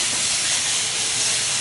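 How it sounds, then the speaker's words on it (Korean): Marinated bulgogi beef fries hard in a pan for a banh mi sandwich, giving a loud, steady hiss that fills the moment with no break. "고기는 팬에 올려서 아까 양념해 놓은 거 볶겠습니다"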